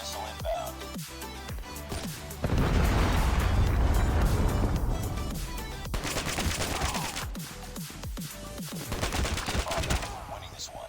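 Rapid automatic rifle bursts from an ASM10 in a multiplayer shooter game, loud and close, with repeated volleys over game effects and explosions.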